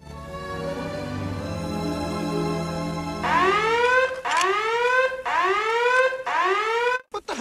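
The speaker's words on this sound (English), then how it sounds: "That was my Virgin alarm. It's programmed to go off before you do." An electronic alarm in a science-fiction audio drama: a steady droning tone gives way to loud, repeated rising whoops that cycle about once a second and cut off abruptly at the end.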